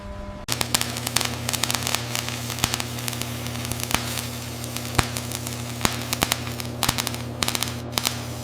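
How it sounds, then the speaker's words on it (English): Electric flash welding joins the tail of one steel coil to the head of the next in a steel coil factory, a steady loud electrical hum and buzz with crackling sizzle and sharp intermittent snaps throughout. "We fuse the tail of one coil to the head of the next, using enough electricity to melt a mountain in seconds."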